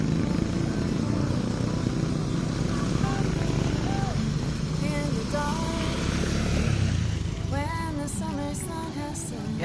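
A motorcycle rides through flood water on a swamped street in Mambusao, Capiz, its engine droning steadily alongside splashing and nearby voices talking throughout.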